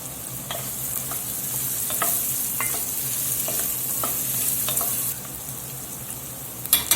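Vegetables with tomato paste cooking in a deglazed pan, a steady bright sizzle and frying hiss with occasional scraping stirs, close and continuous without talk.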